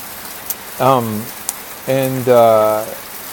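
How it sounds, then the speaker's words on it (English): Heavy monsoon rain falling in Hua Hin, Thailand, a steady broadband hiss running continuously beneath a voice that talks in short phrases. "There's a monsoon rain here occurring in Hua Hin"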